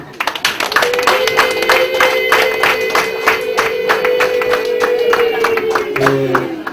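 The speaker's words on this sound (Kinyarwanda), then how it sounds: "abo mwazanye n'ubwo bataguhaye amashyi ngiye gusaba bacu bakumera amashyi" Wedding guests clap in a steady, rhythmic pattern of sharp, evenly spaced claps over a sustained tonal backdrop, lasting the whole clip at close range.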